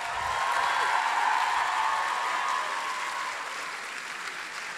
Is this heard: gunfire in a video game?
no